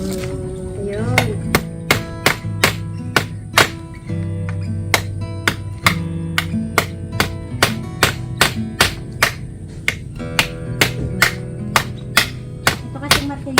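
A hand hammer pounds repeatedly in sharp, loud, close strikes, first quick then settling into an uneven steady rhythm, with a low hum and occasional voices underneath.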